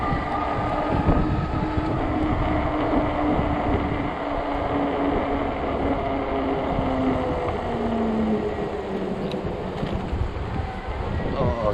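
Strong gusting wind roars against the rider on a 48-volt fat-tire e-bike, a loud continuous rushing buffet that swells and dips throughout, with a faint tonal whine underneath.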